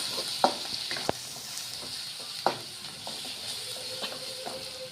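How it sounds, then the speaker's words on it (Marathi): Onion frying with a spoonful of ginger-garlic paste, a steady hiss of oil broken by a few sharp spoon knocks and scrapes against the pan, heard close with no voices. "अद्रक लसूणचा पेस्ट टाकलेला आहे 1 चम्मच। 1 मिनिट ठेवू द्यायचं कच्चेपणा जाईपर्यंत।"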